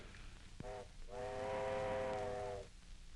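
A steam train whistle blows twice, a short toot then a long sustained blast, over a low rumbling background of the train arriving at a station.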